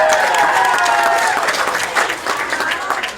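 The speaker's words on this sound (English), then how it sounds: "Round of applause." A comedy club audience at a Valentine's Day stand-up show breaks into applause, a dense, steady wash of clapping and crowd noise filling the room throughout, with some chatter mixed in.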